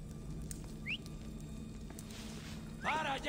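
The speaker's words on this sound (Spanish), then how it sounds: "¡Ese silbido me va a volver loco!" Faint, short rising whistles sound in Assassin's Creed Odyssey: one quick swoop early on and a fuller, slightly louder whistle near the end, over a low steady ambient hum.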